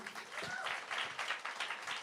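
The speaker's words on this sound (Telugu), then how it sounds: "అందరికీ ఒకసారి క్లాప్స్ కొట్టండి." An audience at a stage event claps together in a brief burst of steady, fairly close applause.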